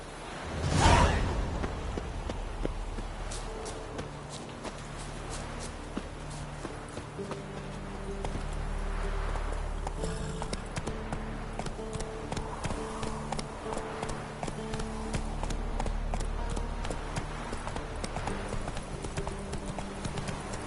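Roach, a horse in The Witcher, galloping: steady rapid hoofbeats clip-clopping for about twenty seconds, with a whoosh near the start and game ambience beneath.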